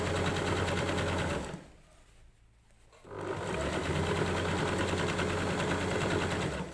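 A sewing machine runs steadily along the bottom seam of a bag, stitching through several layers, with a loud continuous whirring hum that drops away for about a second and a half before starting up again.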